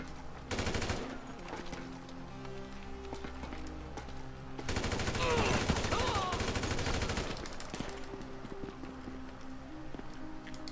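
Gunfire in Grand Theft Auto on PS4, with two dense bursts of shots around the first second and again at mid-clip, over a steady game soundscape that carries on quietly between them.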